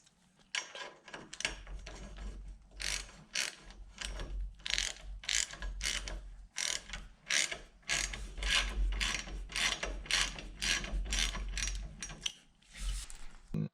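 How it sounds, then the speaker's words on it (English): Repeated ratcheting clicks come in quick bursts as an Allen key tightens a subframe bolt on a 2003 Honda Shadow 1100 motorcycle during engine installation, close-up and fairly quiet, with short pauses between strokes. "Now I'm going to take now the Allen key and tighten this up some."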